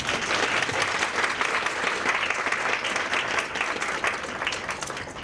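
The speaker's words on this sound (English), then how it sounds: "Can we give them a round of applause, please?" An audience at an early childhood educators of the year luncheon gives a warm round of applause, a thick, even wash of clapping from many hands that holds steady and eases slightly at the close.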